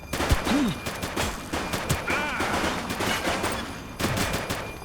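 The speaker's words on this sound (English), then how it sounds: "Shots fired!" Gunfire in the police video game The Precinct: rapid bursts of shots crack in quick succession, loud and close, mixed with sharp impacts and a brief pause before another volley.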